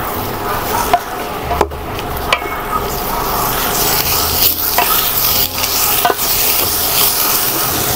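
Beans going into a pan of already cooked bagoong for gising-gising, sizzling loudly and steadily with stirring and scraping, a few sharp clatters and taps of the utensil against the pan, no voices.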